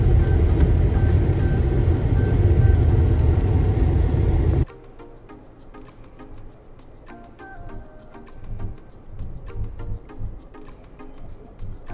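A car rolls through a Florida residential neighborhood, starting with a loud, steady cabin rumble that abruptly drops to a quieter, uneven road hum with light knocks and rattles.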